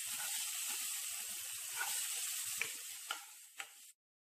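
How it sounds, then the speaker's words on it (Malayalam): Turmeric and half a teaspoon of garam masala powder being stirred into a sizzling chutney mixture in a hot pan, a steady close hiss with a few soft scraping clicks near the end, no talk. "1/2 ടീസ്പൂൺ മഞ്ഞൾപ്പൊടിയും 1/2 ടീസ്പൂൺ ഗരം മസാല പൊടിയും കൂടിയും ചേർത്ത് നന്നായി ഒന്ന് മിക്സ് ചെയ്തെടുക്കാം."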